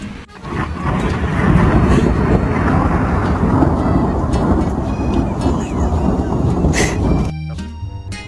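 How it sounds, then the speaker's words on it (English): Thunder rumbles outside, a heavy, sustained roll that builds and lingers for several seconds before cutting off abruptly near the end. "It's thundering outside."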